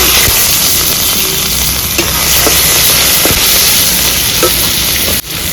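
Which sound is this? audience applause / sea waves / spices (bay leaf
spices (bay leaf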